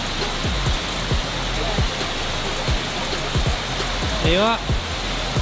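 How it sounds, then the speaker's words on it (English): The steady roar of Stockghyll waterfall near Ambleside in the Lake District fills the scene as a constant broadband rush of falling water, while someone speaks briefly over it. "Here's one waterfall, which I think we can come back to."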